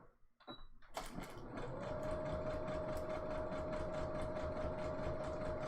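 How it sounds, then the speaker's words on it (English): A sewing machine starts up after a brief click and runs steadily, its rapid mechanical stitching rattle continuous and close, with a faint whine underneath. "This is a new sewing machine for me"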